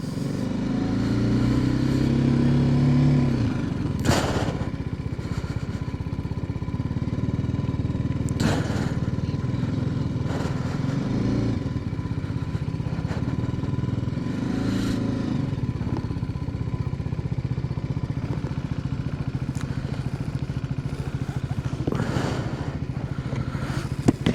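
Motorcycle engine running steadily on a ride toward a lakeside area, a continuous loud drone with a few brief bursts of wind buffeting and a short revving rise at the start.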